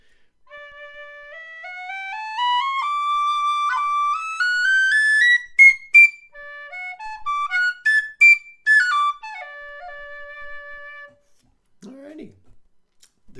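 A Goldfinch high D tin whistle plays a clear, bright melody of stepped notes with quick ornaments, loud and close, followed by a few soft breathy sounds at the end.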